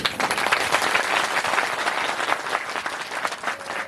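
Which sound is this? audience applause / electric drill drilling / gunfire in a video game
audience applause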